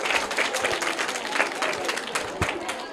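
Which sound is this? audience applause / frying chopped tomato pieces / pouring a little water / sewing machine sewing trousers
audience applause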